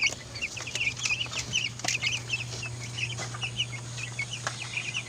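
Forty-five-day-old chickens cluck steadily in their pen, a busy overlapping chorus of short clucks close by over a constant low hum, with no talking.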